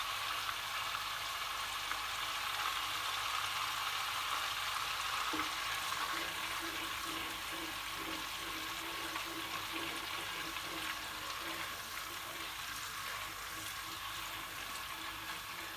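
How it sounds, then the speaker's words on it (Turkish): Oil heating in a pan for Sivas-style flour halva, a faint, steady, hissing sizzle that continues evenly throughout with light crackling. "Gördüğünüz gibi yağımız iyice cızırlamaya başladı arkadaşlar."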